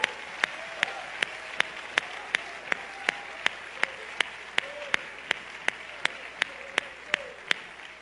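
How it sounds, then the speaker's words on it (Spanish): Church congregation clapping in a steady, evenly spaced rhythm, sharp regular claps over a low murmur of voices and room noise. "Denle un aplauso al Señor por eso."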